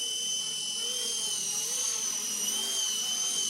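An RC Era C189 remote-control helicopter hovering nearby, its small electric motor and rotor producing a steady high-pitched whine that holds constant without a break.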